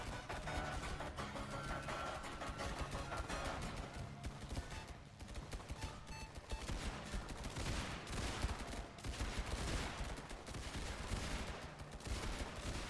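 Sniper towers in the tower-defense game Tower Incursion fire a dense, rapid stream of gunshot-like cracks over busy game sound, steady and fairly faint throughout.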